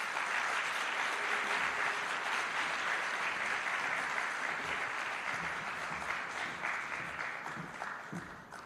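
Sustained applause from an audience at the official launch of the Jamaica Legal Information Portal, with scattered cheers in a dense, steady wash of clapping that holds throughout and fades slightly at the end.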